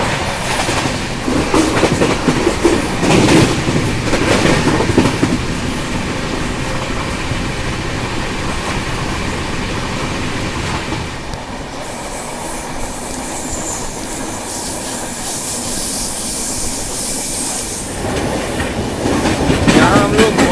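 The Secunderabad Rajdhani Express rumbles through Gwalior station at speed without stopping, rhythmic clattering wheels and rail noise, steady and loud throughout, with a brief hiss of wind near the end.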